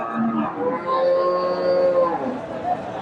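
A Friesian cow lets out a long, loud, drawn-out moo close by at a cattle market in Bogura, its low tone rising and holding before trailing off.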